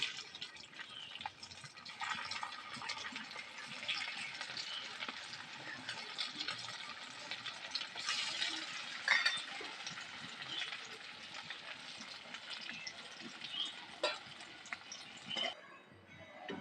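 Banana flower dhoka pieces frying lightly in hot oil, a faint steady bubbling sizzle with soft crackles throughout, fairly quiet and close, no speech.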